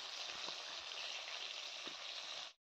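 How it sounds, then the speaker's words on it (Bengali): Fish fry in hot oil with a soft, steady sizzle and faint crackles, continuous and alone until it cuts off abruptly near the end. "এবার এখানে মাছগুলো ভাজা করে নিচ্ছি"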